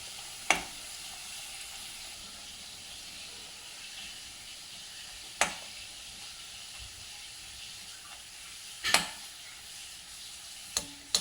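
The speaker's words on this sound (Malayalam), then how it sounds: "നമുക്ക് ഗോൾഡൻ കളറാവുന്ന വരെ വറക്കണം" Bread pieces fry in oil with ghee for a spinach soup, a soft, steady sizzle heard quietly at close range, broken by a few sharp clinks of stirring.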